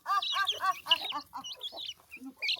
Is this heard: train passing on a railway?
no